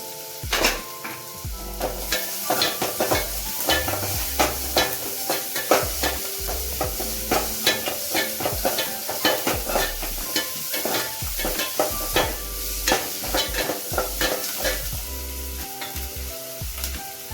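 Chopped onions frying in oil with a little salt in a home kitchen pan, a steady bright sizzle broken by repeated scraping and clinking stirs throughout, close and without talk.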